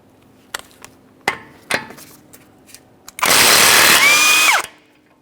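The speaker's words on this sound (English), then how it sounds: "We'll be using a 34mm to remove our axle nut." A few sharp metallic knocks and taps, then a loud burst of an impact wrench with a 34mm socket whirring for over a second on a Subaru Outback axle nut before cutting off.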